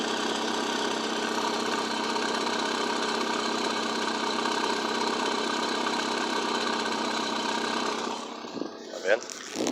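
A Volkswagen Gol 1.0 8v engine idles steadily with a persistent whining, buzzing undertone, heard close and constant before a few knocks and handling noises at the end.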